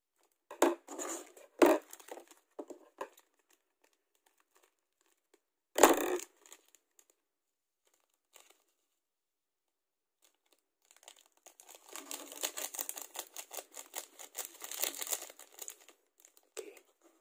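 A Mamee tasty seasoning sachet is torn open, giving sharp crinkling bursts early on, a single loud rip, then a longer stretch of dense plastic rustling and crackling near the end, close and otherwise quiet.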